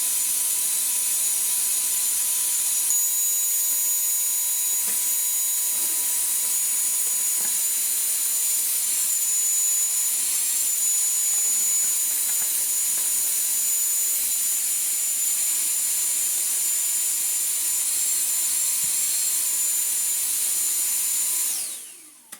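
A toy Numatic vacuum cleaner runs with a steady high-pitched electric whine and thin airy hiss, close and unbroken for over twenty seconds before abruptly winding down.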